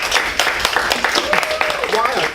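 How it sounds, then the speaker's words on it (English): A room of members at a Toastmasters club meeting gives a brief round of applause, a dense patter of clapping mixed with voices and murmuring. "Please give yourself a round of applause."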